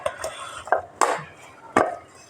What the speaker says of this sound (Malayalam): അപ്പോൾ നമുക്ക് ചോറൊന്ന് ഇളക്കാം, ചൂടാക്കി എടുക്കേ.